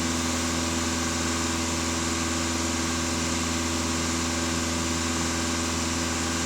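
A VW Passat B8 engine is held at 2500 rpm, producing a loud, steady hum and drone with constant tones and no speech.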